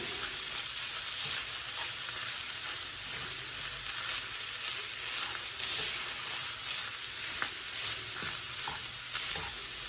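Ground taco meat sizzles and crackles steadily in a hot pan while being stirred, a loud, continuous frying hiss with no talking.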